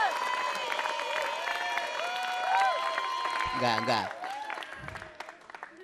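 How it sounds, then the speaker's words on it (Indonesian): A seminar audience applauds during a Wayang Kampung Sebelah comedic puppet performance. The applause rises under voices and music, with someone speaking over it. "Wah, dapat tepuk tangan."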